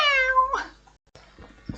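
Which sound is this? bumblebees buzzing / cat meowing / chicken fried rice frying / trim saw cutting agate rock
cat meowing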